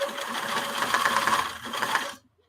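A sewing machine stitches fabric for a stuffed owl with a fast, steady mechanical whir and rattle lasting about two seconds, then stops abruptly into silence.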